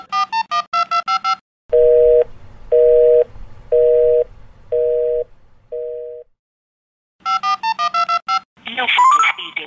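Phone call tones sound: rapid beeping tone bursts at the start and the end frame a busy signal, with five evenly spaced beeps of which the last is shorter, followed by a brief burst of a voice.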